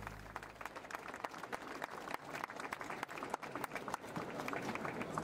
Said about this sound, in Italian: facciamo un po' di coreografia e l'applauso, naturalmente, della nostra piazza